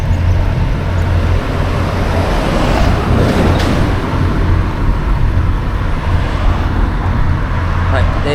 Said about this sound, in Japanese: 今車の音もね結構うるさいですね。 で車の音もしてる中で今自転車に乗って風切り音も結構強いと思うんですよ。